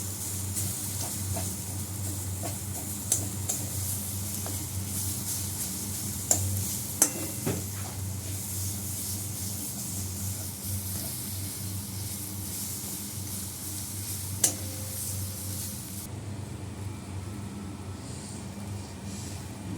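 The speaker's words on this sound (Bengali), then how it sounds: "এই পরোটাটা ভাজা হচ্ছে" A stuffed paratha fries in a pan with a continuous soft sizzle, and occasional clinks of a spatula and pan sound close by. Nobody talks.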